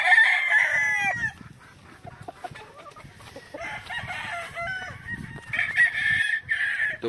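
A Super Sweater gamefowl broodcock crows several times, close and loud, with soft clucking and quieter farmyard fowl sounds between the crows.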